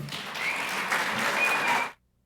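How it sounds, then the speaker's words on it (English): Audience applause for a senator taking the stage at a political conference, a steady dense clatter of clapping that fills the room for about two seconds before cutting off abruptly into silence. "So let's give a warm round of applause"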